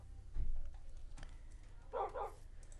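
Dogs in the video game Minecraft give a couple of short barks, then a louder doubled yip a moment later, over quiet game ambience with no speech.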